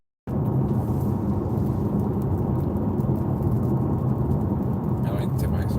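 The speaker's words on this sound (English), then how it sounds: "oh, it's raining, which is not good for this car." Steady rain patters nonstop, close and fairly loud, with a faint rumble underneath and no talking.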